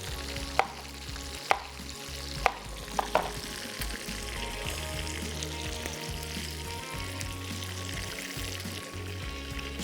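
Qeema frying in a pan for a dum qeema pulao, a steady loud sizzle throughout with a few sharp spoon or spatula knocks against the pan early on as it is stirred.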